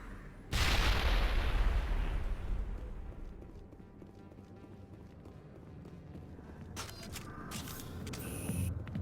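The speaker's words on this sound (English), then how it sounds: "Keep throwing the damn grenade." Explosions boom and gunfire crackles in a Mass Effect firefight as a grenade blast bursts in loudly and its heavy rumble trails off, followed by sharp bursts of shots a little later.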